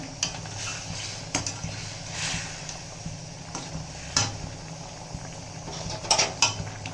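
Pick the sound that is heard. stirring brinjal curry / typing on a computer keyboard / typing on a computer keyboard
stirring brinjal curry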